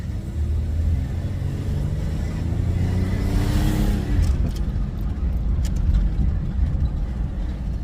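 A lifted 4x4 Astro van drives down the road, its engine rumbling steadily up close with a brief rise in revs midway and light road noise, no voices over it.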